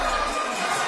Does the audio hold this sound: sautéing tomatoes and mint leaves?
no